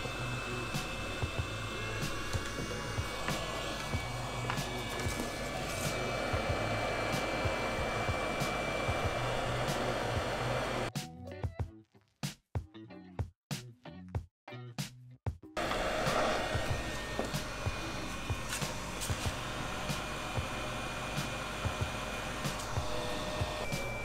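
Hot air rework station blowing steadily while heating an Xbox One S HDMI retimer chip for desoldering, a loud continuous whooshing hiss, interrupted briefly by a few seconds of cut-out gaps before resuming.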